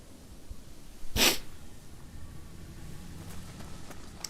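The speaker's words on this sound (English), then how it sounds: "Big sneeze." One big, sharp sneeze bursts out close to the microphone, loud and short, set against quiet room hiss with no talk.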